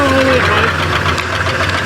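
A Ford Bumpside pickup engine idles after sitting parked for 15 years, a steady loud rumble with knocking, running continuously throughout under people talking.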